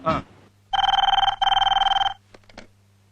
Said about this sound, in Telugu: ఇందాక నుంచి ఫోన్ చేస్తున్నావు